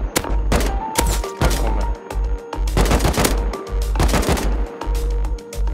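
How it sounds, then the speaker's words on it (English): AK rifle gunfire in the video game Rust, with loud, rapid bursts of sharp shots in quick clusters, separated by brief gaps and some overlapping fire throughout, no talking. "I was still hearing AK shots"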